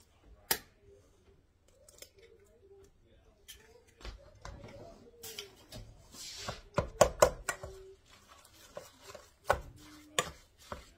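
Onion is chopped on a board, a scattering of sharp irregular knife taps, sparse at first and then quicker and louder in the middle before easing off, with faint handling noise between strikes.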